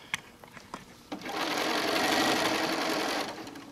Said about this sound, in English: you're going to sew right up over the piping as if it wasn't there and out into air